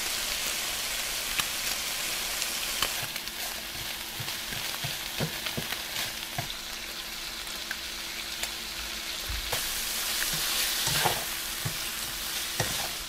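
Crappie fillets fry in a hot skillet outdoors, a steady close sizzle with crackling pops and occasional stirring or scraping clicks, no talking.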